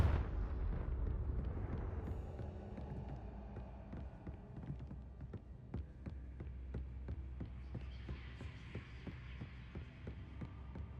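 Confringo fire spell in the video game Hogwarts Legacy. It opens with a low booming blast, then settles into a throbbing hum scattered with crackling impacts, loud and continuous.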